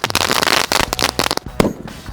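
Roman candles and firecrackers go off in a rapid run of sharp cracks and pops, close and loud, then thin out into a few scattered bangs.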